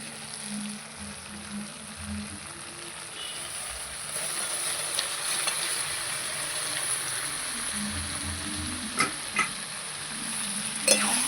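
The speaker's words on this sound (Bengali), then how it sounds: "মশলা একসঙ্গে ভালো করে কষিয়ে নিয়েছি" Soybean chunks and potato sautéing with spices in oil in a pan, a steady close sizzle with scraping stirs and a few louder clinks near the end, no voices.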